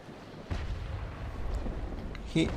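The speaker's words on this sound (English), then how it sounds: "he was shooting chain, which is good because he's just hitting my sails" Naval cannons in the Naval Action video game fire chain shot, giving two or three dull booming reports over a low rumbling background, with a faint voice now and then.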